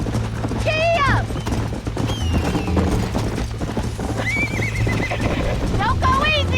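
A horse in Red Dead Redemption gallops with loud clip-clop hoofbeats and neighs repeatedly, shrill whinnies rising over the hooves, while game music and voices talk around it.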